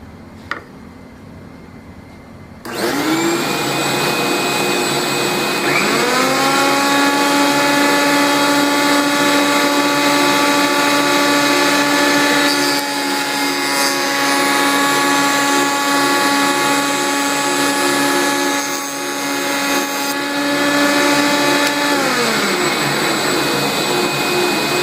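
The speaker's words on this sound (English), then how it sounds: "Now, I've set the jointer up with a depth of cut of 1/32 inch. We're going to run this piece of wood through" A Craftsman jointer spins up to a loud, steady motorized whine, with a slight shift in tone as a piece of wood is fed through at a 1/32-inch depth of cut, running close and unbroken without talk.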